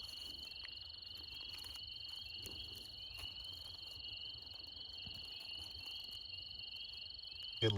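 A small cricket frog calls at a Georgia wetland, a persistent high-pitched trill blended with insect buzzing, fairly faint and continuous, with a soft thump at the very end.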